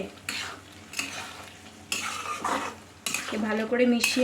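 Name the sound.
stirring prawn, potato and ridge gourd curry with spoon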